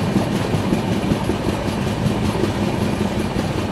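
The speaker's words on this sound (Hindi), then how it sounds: "आप यहाँ समझ सकते हैं कैसे हम लोग धीरे धीरे घाट सेक्शन चढ़ रहे हैं अब।" An Indore Daund Express train (22944) climbs a ghat section near Palasdari, heard from inside the coach as a loud, steady rumble with continuous clickety-clack of the wheels and no talking.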